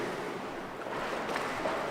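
Ocean waves wash steadily onto a broken, rubble-strewn shore beside old coastal bunkers, a continuous close surf roar with some wind across the microphone.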